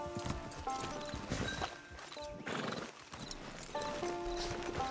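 Hooves clip-clop at a steady pace while a horse whinnies in Red Dead Redemption 2 Online, a clean game-style effect with no voices.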